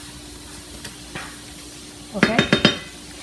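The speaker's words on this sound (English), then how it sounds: "Now we're gonna move the meat, so all the color and all the sofrito go all around the ground beef." Ground beef being stirred with sofrito in a pan, a few quiet scrapes and then a quick cluster of four sharp utensil strokes near the end, over faint background noise. A voice speaks briefly.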